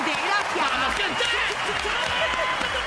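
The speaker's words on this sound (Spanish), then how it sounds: "un aplauso para toda, gente. Para toda la gente." An audience applauds, a dense wash of clapping that fills the whole stretch, mixed with cheering voices and a person speaking over the noise.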